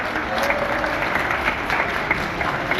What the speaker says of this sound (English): She is not here, but we can always clap for her.